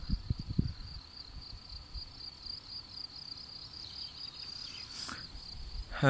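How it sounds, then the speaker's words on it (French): Crickets chirp in a continuous high trill throughout a meadow where heifers graze, steady and fairly close, with some low rustling and thumps at the start. "les grillons, écoutez-moi ça"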